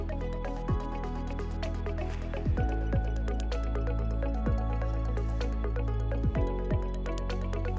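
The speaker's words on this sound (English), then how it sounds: "Pour in all of the provided carbon media during this step." Carbon filter media is poured into an activated carbon filter tank, producing a steady granular rushing with scattered drips and plinks throughout, close and fairly loud.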